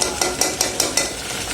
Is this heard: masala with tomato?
yes